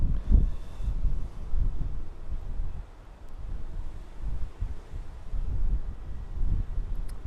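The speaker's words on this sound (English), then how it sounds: "It's just got very windy in the last few minutes." Low, rumbling wind at Birmingham Airport buffets the microphone in uneven gusts, with no voices.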